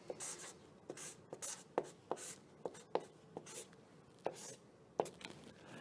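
Marker or chalk tapping and scratching on a board while a math problem is worked out, a quick series of faint strokes and taps, close and quiet.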